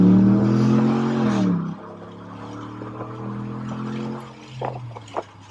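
A car engine with a throttle modification revs hard during acceleration, giving a loud, smooth engine roar for almost two seconds. The sound then settles into a lower, steady drone as the car rolls on, with a few faint knocks near the end.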